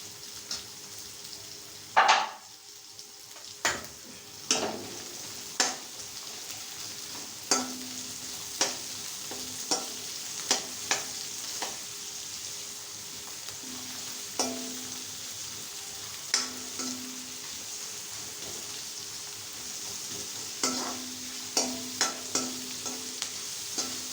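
Onions are stirred and fried in a pan, with a steady sizzle running throughout and a series of clear, repeated spatula scrapes and clinks against the metal at a brisk, uneven rhythm, close and moderately loud.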